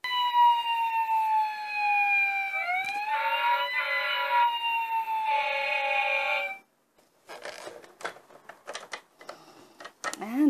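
A 2007 Fisher Price Fireman Sam toy fire engine siren wails in rising and falling electronic tones alongside beeping, then stops, leaving soft clicks and handling noise.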